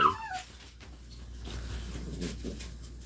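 A dog whimpers and vocalizes close by, opening with a brief high, falling whine, then softer restless whimpers and low murmurs over a steady background hum.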